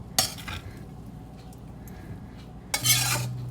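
Stir-fried vermicelli noodles (bee hoon goreng) scraped from one pan into another make two brief metallic scraping bursts, one at the start and one near the end, with quiet kitchen background between.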